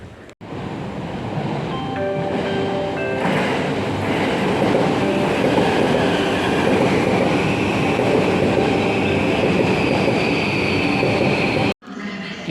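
An early-morning train at Shibuya station in Tokyo rumbles loudly and steadily up close, with a brief tonal chime or announcement near the start and a high squealing whine building toward the end before a sudden cut.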